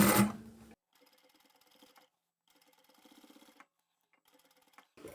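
A sewing machine stitching two folded layers of fabric for a phone and glasses clutch runs in three short bursts of rapid, even mechanical ticking, quiet and close, with pauses between runs.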